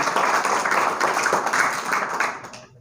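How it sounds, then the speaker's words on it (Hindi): Audience at a library event applauding, steady dense clapping that continues for a few seconds and then fades out. "दीदी के लिए एक बार जोरदार तालियां होनी चाहिए।"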